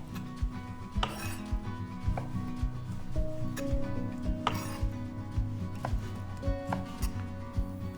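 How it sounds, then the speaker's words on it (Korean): Knife cutting beef into small cubes on a board for doenjang-jjigae, a run of close, irregular chopping taps with light clinks of kitchenware, fairly quiet and without speech. "소고기도 마찬가지로 그냥 깍두기처럼 썰어 주셔도 돼요"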